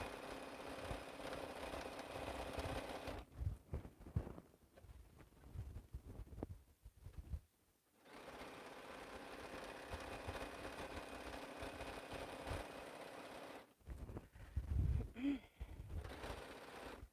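A sewing machine runs in bursts while stitching quilt pieces, a low mechanical hum at moderate distance, stopping briefly between runs with quiet pauses.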